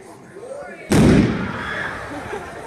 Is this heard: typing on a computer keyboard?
no